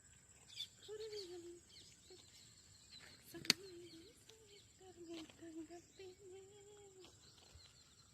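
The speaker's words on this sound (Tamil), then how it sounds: "அப்படியே குருவி சத்தம்." Faint chirps from small birds such as sparrows repeat in short irregular bursts over a quiet rural village backdrop in Karur, with a sharp click partway through and no clear talk.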